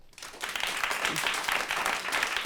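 Studio audience applauding during a live political radio show, a dense steady wash of many hands clapping that swells quickly and holds at full strength throughout.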